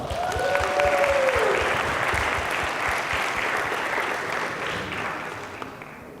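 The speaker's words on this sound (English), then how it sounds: "So Natalie DeHaan, let's give her a round of applause." A loud, dense round of audience applause at a student research poster session, right after a performance of the Black National Anthem, sustained for several seconds and tapering slightly toward the end.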